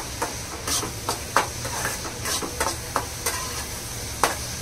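A Navratri fasting dish made without onion or garlic, with crushed peanuts, is stirred in a pan. A utensil makes regular scraping strokes about every half second over a faint sizzling hiss, close and with no talking.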